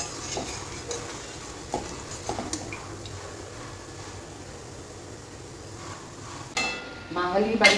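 Palm fruit pitha cakes fry in a pan, giving a soft, steady oil sizzle with occasional light scrapes and stirs, and a louder bubbling burst near the end.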